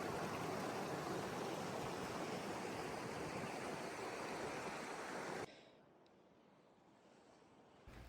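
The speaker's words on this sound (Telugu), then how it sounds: "ఇక్కడ చాలా సైలెంట్గా ఉంది, వాటర్ సౌండ్ తప్ప ఇంకేం సౌండ్స్ వినిపించట్లేదు." Mountain stream water rushing steadily along a Lake Louise hiking trail, a dense broadband wash that is loud and continuous before dropping abruptly to a much quieter, distant flow.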